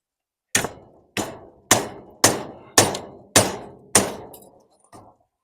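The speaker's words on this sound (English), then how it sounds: "Get down here so I can hammer it." Seven sharp metallic hammer blows on a trailer land at a steady, deliberate pace, each ringing briefly before the next, the last one softer.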